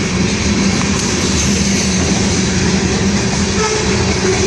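Canadian Pacific and Union Pacific freight trains roll past together in a steady, loud, unbroken rumble of wheels and cars, with a faint horn-like tone running under the noise.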